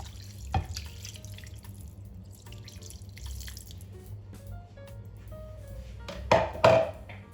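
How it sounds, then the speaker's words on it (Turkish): One litre of cold water poured into a pan for one-pan pasta with tomato paste, a short splashing rush near the end after a quiet stretch with a faint drip or knock early on. "1 litrede soğuk suyum var. Onu katıyorum."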